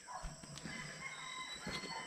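Several chickens cluck and squawk in short overlapping bursts, with a sharper cry now and then, close by in an outdoor yard.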